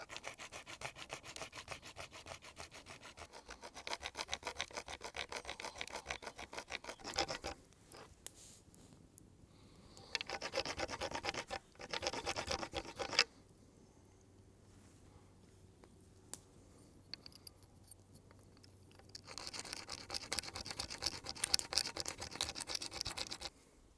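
A worn hand saw cuts through deer antler for an antler hammer, with bursts of rhythmic rasping back-and-forth strokes broken by quiet pauses, close and fairly loud.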